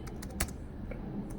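Computer keyboard typing while entering Python code, a few soft, irregular key clicks with one sharper tap near the middle, fairly quiet and close against low room noise.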